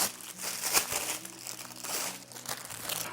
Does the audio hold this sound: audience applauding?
no